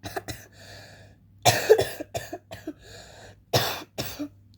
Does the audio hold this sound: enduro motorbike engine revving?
no